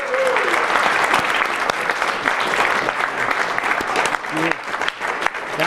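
Rotary club audience applauding newly inducted members, sustained dense clapping from a room of people at steady loudness, with a few voices briefly heard beneath it.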